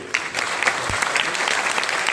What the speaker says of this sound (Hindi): सबके लिए जोरदार ताली बनी है।